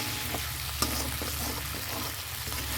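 Curry simmering in a pan after water is added to the fried spices, giving a steady close bubbling sizzle with a few soft stirring clicks throughout.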